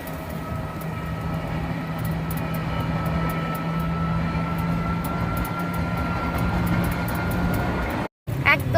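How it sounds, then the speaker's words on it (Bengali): Capital train running through Jaldapara forest, heard as a loud, steady rumble with a sustained whining tone that continues for about eight seconds before cutting off briefly. "রাস্তাটা ফরেস্টের মাঝখান দিয়ে ট্রেন চলে যাচ্ছে, ক্যাপিটাল ট্রেন।"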